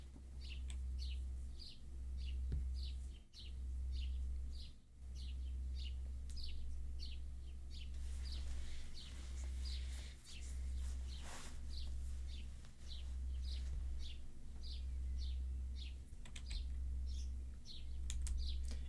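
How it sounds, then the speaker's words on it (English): Bird song effect from the visual novel Subarashiki Hibi: rapid repeated chirps and tweets recurring steadily throughout, fairly clear over a constant low hum, with no talk. "gotta love the bird song sound effect"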